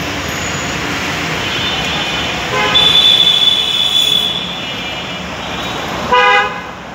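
Busy road traffic near Diabari metro rail station is a steady wash of engines, cut by a long held car horn and a second short horn blast near the end.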